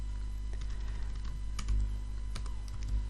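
Rapid typing on a computer keyboard, a dense run of close, crisp key clicks with a few heavier thumps like the space bar, with no voices.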